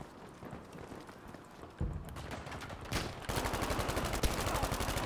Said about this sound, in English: But I'm gonna use the Tommy gun today.